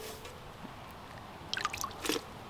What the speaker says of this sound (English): with this moss, I'm gonna sort of dip it in a little bit of the extra water that I brought over